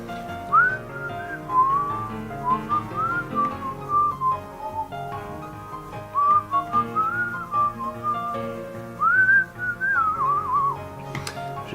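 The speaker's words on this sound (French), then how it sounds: "Je siffle bien." A person whistles a wandering, slightly uneven melody at moderate volume, with short tonal phrases and brief gaps, close to the microphone during a colored-pencil drawing session, with no talking.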